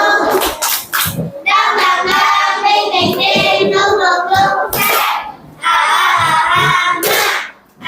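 A group of schoolchildren in a classroom perform the 'tepuk semangat' clapping cheer, chanting together in rhythm while sharp hand claps and thuds punctuate the loud, continuous group voices.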